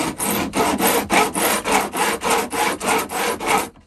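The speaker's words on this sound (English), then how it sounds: "We're going to grab our file" Rhythmic rasping strokes of a file on metal guitar frets of a cigar box guitar neck, about a dozen even back-and-forth passes at a steady pace, close and fairly loud with no talking.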